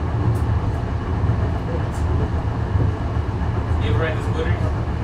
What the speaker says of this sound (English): I mean, we're going here now on this train.